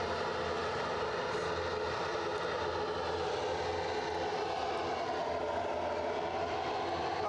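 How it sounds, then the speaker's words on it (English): An ATR turboprop airliner passes at Edinburgh Airport, its engines a steady, broadband drone that stays at moderate level and fairly distant for the whole stretch, with no talk over it. "we get rid of one ATR and then another one comes along to noise up the stream"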